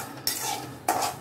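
Semolina being dry-roasted in a hot kadai for rava kesari, two brisk scraping strokes of a ladle against the metal pan, close and clear, with no voices.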